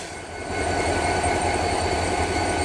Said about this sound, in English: Here we go, the train's starting to move.